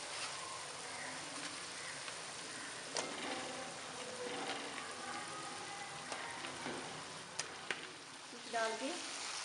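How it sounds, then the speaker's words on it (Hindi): Masala frying in a pan for fish curry, a continuous soft sizzle with scattered clicks and utensil scrapes, close by and without talk. "थोड़ी देर भूनने के बाद अब हम इसमें मछली शामिल कर देंगे।"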